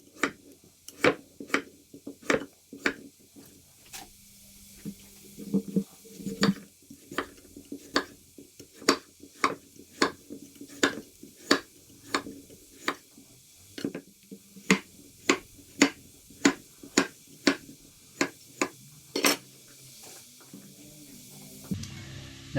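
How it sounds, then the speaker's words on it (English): Knife chopping pumpkin on a cutting board: a steady series of sharp, close, evenly spaced taps and thuds, interrupted briefly by softer scraping from peeling, with no talking. "I'm going to start peeling my pumpkins"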